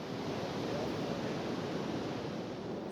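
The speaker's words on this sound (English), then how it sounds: "I'm just aware of the sound of the ocean behind me" Steady ocean surf at sunrise, a continuous broad wash of breaking waves rolling in close and fairly loud, with no voices over it.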